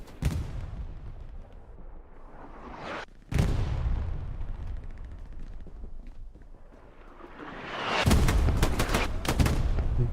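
Gunfire in Hell Let Loose, including an FG-42 rifle in a competitive match at Carentan: a sharp loud shot with echoing tails, then rolling distant fire building into a rapid cluster of cracks near the end.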